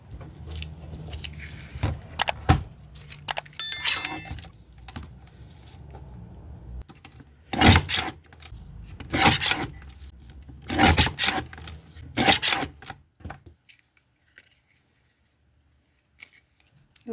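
A cardstock strip is trimmed for a handmade Christmas card. Close, crisp clicks and short scraping strokes come in irregular bursts, then fall to near silence.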